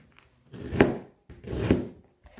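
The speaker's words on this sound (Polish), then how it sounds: "Teraz kroję seler." A knife chopping celery on a board in a home kitchen, two distinct cutting strokes spaced about a second apart, close and moderately loud with quiet between.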